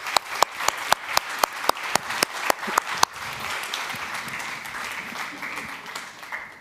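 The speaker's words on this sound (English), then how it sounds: "Maybe one last applause to send you off the stage." Audience applause at a youth conference sending a speaker off the stage, opening with a run of sharp, evenly spaced loud claps, then settling into a steady, fuller wash of clapping from the crowd.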